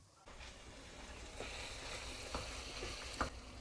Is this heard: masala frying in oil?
yes